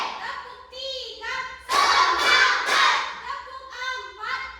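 Schoolchildren in a classroom clap their hands in a counted rhythm game, a cluster of sharp claps between stretches of young voices talking and calling out.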